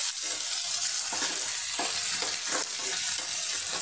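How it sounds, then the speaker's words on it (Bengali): Tomato powder fries in oil in a pan for an okra chorchori, giving a loud, continuous sizzling hiss with faint scraping stirs underneath. "টমেটোর গুঁড়ো দিয়েও আমি হালকা একটু ভেজে নেব।"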